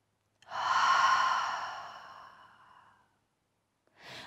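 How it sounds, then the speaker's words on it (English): A single slow, deep breath out, soft and close, swelling and fading over about two and a half seconds, followed after a pause by the start of another breath, during a quiet yin yoga session. "Inhale. Exhale. Take 1 more breath."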